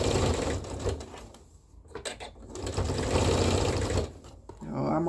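A sewing machine stitching a bodice, with close bursts of rapid mechanical whirring that pause briefly midway and then resume, while a person talks at times.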